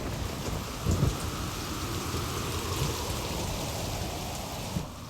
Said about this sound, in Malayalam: എട്ട് പകലും 7 രാത്രിയും കൊടുങ്കാറ്റ് വീശി.